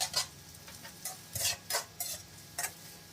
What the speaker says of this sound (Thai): ผัดคลุกเคล้าเข้ากันก่อนนะครับ